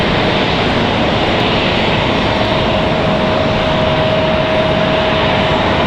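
Airliners sit near gates C10 and C12 at Raleigh-Durham International Airport in the late evening, giving a loud, steady engine roar with a sustained high whine that holds without a break, with no voices.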